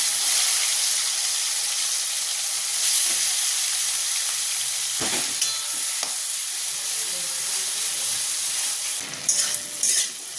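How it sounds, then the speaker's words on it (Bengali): Prawns fry in hot oil left from frying potol, making a loud, steady sizzle that runs the whole time, with a few brief clatters of stirring near the end. "এই যে চিংড়ি মাছটা এই তেলটার মধ্যেই ভেজে নেবো"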